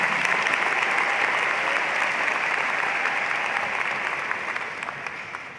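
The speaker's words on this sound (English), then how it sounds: "You can applaud to that." Graduation audience at a university mid-year commencement breaks into sustained applause, a dense even wash of clapping that holds steady then slowly fades toward the end.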